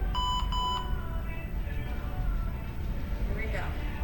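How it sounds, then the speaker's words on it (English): Two short, high electronic timer beeps ring out at the start of a strength workout round, followed by steady background noise. "we're gonna hear a quick beep to prepare yourself for the round"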